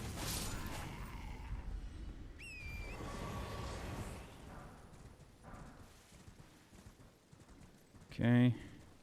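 Horse hooves in the Elden Ring video game world, a rhythmic clip-clop of hoofbeats amid game ambience and whooshing effects, with someone talking over it and a sharp louder burst near the end.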